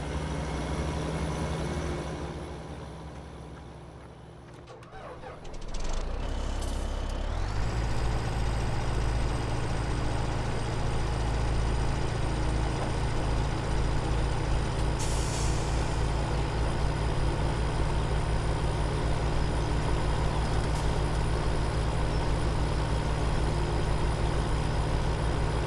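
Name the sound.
truck engine and air brakes in Farming Simulator 17, video game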